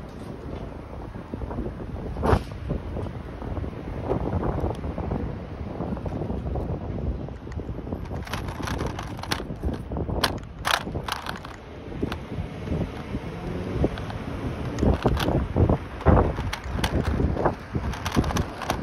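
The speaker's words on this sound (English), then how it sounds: "it's very windy. It's very windy out here." Strong wind buffets the microphone during a downtown Nashville scooter ride along Broadway, a constant loud rushing roar with gusty bursts and crackles, heard without talk.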